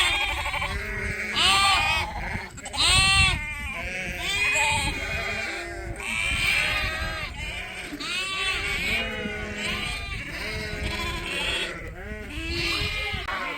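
Ewes and lambs bleat constantly in a crowded farm pen during lamb marking, many overlapping loud calls close by with a dense, noisy chorus throughout.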